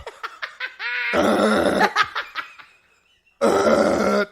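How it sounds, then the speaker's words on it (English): Loud, drawn-out burps delivered with a yelling voice, two long raspy bursts separated by a short pause, with laughter and chatter around them. "The way you also yell as you burp."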